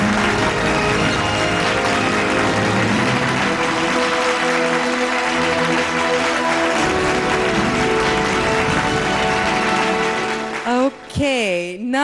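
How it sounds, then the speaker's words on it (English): Steady round of applause at an award ceremony for commercial vehicles, filling the space evenly for about eleven seconds, with music tones underneath and a voice briefly rising over it at the end. "Let us give a thunderous round of applause."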